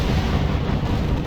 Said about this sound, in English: Thunderbolts come in for another strafing run